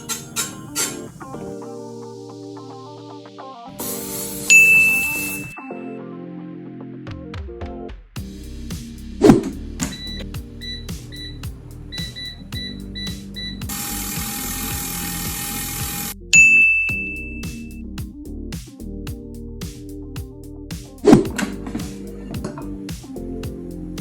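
Xiaomi Youban smart air fryer running, with mechanical whirring and clicking, bright electronic beeps and dings, and bursts of noisy hiss over a low steady hum, heard close up with no talking.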